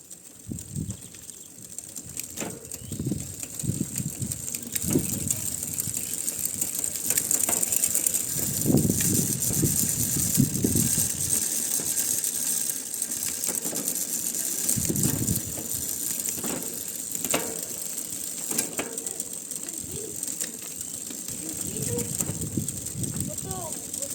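A repaired bicycle drivetrain runs in seventh gear, a faint mechanical whir with ratcheting, rattling clicks that come in bursts over a steady background, while someone talks at points in between.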